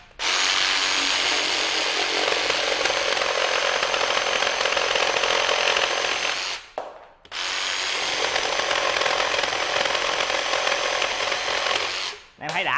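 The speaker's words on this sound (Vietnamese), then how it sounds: "thì bây giờ nó thành cái cưa kiếm ha." A loud Worx power tool converted into a reciprocating saw runs in two long continuous bursts, buzzing harshly through the cut, briefly stopping in between before starting again.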